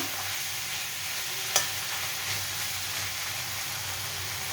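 Kachki fish chachchari cooking in a kadai, a steady close sizzle and frying hiss with soft stirring scrapes, one brief sharp clink partway through.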